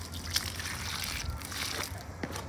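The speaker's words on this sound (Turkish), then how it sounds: "Şimdi can suyumuzu verelim." Water trickles and sloshes steadily around the base of newly planted rose bushes, a soft continuous pour close by with no talking.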